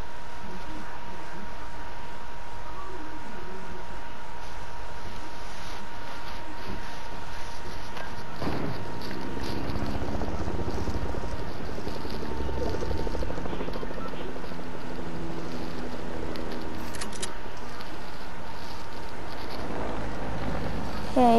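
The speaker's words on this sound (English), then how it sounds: "the person with the helicopter? It's going down to get the supply drops." A helicopter in Fortnite flies in a steady, continuous drone that grows louder and more rotor-like midway through, with no talk over it.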